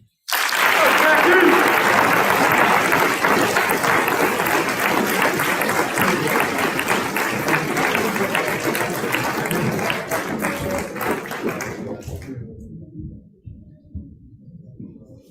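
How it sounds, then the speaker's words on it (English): Sustained audience applause in a school setting after a senior speech, a dense, even wash of many hands clapping that holds for about twelve seconds before cutting off into a few stray claps and quiet. "we have always done another round of applause for people who have done senior speeches"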